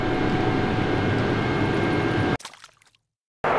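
Inside the cabin of a Singapore Airlines Boeing 777-300ER just after takeoff, a loud, steady engine roar fills the space, then cuts out abruptly into near silence before returning at the end.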